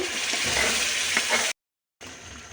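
Hilsa fish fry in oil, sizzling and crackling steadily in a pan, then a cut to brief silence before the frying sound resumes.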